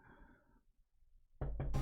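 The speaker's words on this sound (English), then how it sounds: "Knock on wood." Two or three sharp knocks on wood, close and fairly loud, landing in quick succession after a stretch of quiet game background sound from Dead Cells.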